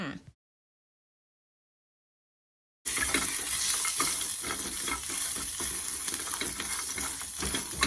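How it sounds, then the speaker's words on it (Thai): Spices sizzle in hot oil in a pan as a pork stew is made, a steady close frying hiss with light stirring scrapes that begins after a short silent gap. "เราไปผัดเลยค่ะ ผัดรวมกับเครื่องเทศค่ะ"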